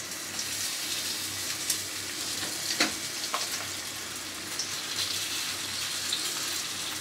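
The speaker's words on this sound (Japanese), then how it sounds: "フライパン温めて、油ひいて、ボラレンコンの挟み揚げを焼いていく" Lotus root sandwich fritters fry in an oiled, heated pan, producing a steady close sizzle with scattered crackles and pops, and no talking.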